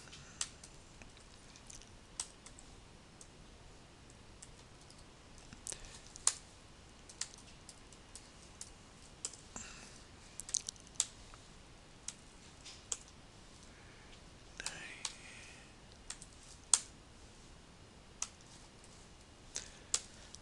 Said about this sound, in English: I will type in 10 floating point numbers,